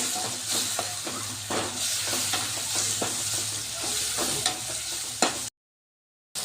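Red chilies and ginger-garlic paste fry in oil with a steady close sizzle and crackle, broken by scraping stirs, then a brief silence at the end.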